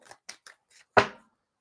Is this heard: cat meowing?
no